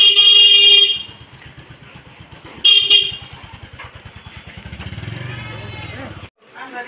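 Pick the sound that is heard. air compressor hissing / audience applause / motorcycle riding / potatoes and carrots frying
motorcycle riding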